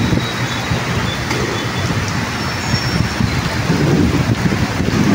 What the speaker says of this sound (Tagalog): talagang tumudo ngayon ang ulan